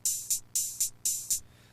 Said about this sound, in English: And some hi-hats.